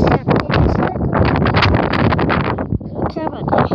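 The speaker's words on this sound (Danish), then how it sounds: "Det blæser lidt her." Wind gusts buffet the microphone outdoors, a rough continuous roar running under a person talking throughout.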